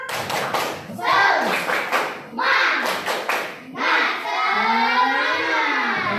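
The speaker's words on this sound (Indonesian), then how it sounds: "Tepuk semangat." A school class claps a rhythmic spirit clap together, sharp bursts of clapping in a patterned beat alternating with children chanting in unison, close and loud in the classroom.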